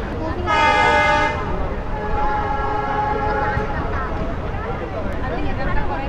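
The Mongla commuter train pulls out of Fultola junction, its horn sounding a loud, brief toot near the start, followed by steady rumbling of the railcars and rail noise heard from on board, with voices faintly mixed in.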